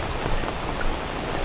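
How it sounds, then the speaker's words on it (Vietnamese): Heavy rain pours down on a street in Nha Trang, making a dense, steady roar of drops on hard surfaces that is loud and continuous, with no voices. "Mưa rất là lớn luôn quý vị ơi."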